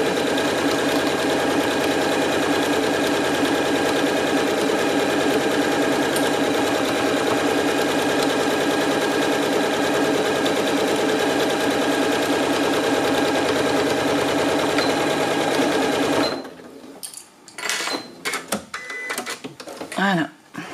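A sewing machine stitching seams on a fabric bag, running loud and continuous at close range for about sixteen seconds, then stopping, followed by quieter handling noises.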